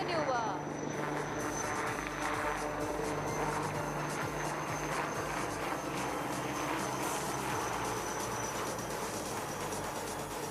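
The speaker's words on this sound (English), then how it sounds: "The light utility helicopter is now ready to perform a couple of stall turns in front of us" A light utility helicopter performs air show stall turns, its rotor thrumming and turbine whining steadily and loud throughout, with an announcer talking over the engine noise at an aero show.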